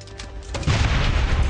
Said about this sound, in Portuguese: Explosão em conjunto